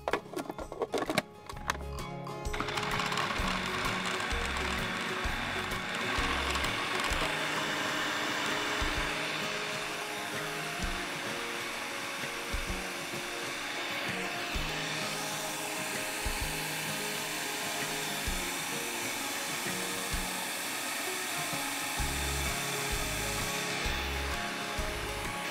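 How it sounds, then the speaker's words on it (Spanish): A blender whirs through an avocado ice cream mixture with vanilla, a steady loud motor drone that starts after a few brief bumps and runs on without a break, with slight shifts in pitch. "Vamos a pasar a la licuadora."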